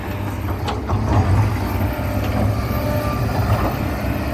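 A Kobelco SK200-10 excavator with a Hino engine, at 22,000 hours, digs hard soil while dredging a reservoir. Its engine drones in a low, steady, heavy rumble, with scraping and clanking from the work on top.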